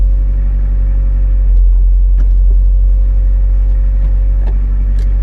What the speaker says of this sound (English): that's it on idle, well, just over idle, 1100 RPM.